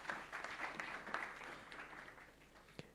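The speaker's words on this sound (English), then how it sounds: "Big round of applause for you." Applause at a government electronics component event in India, a faint, soft wash of clapping that slowly fades over a few seconds, with no voices over it.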